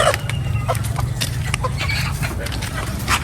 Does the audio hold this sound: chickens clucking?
yes